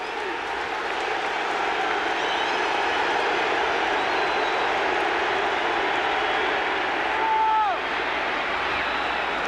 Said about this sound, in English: That was just about as loud as Steve Largent's applause.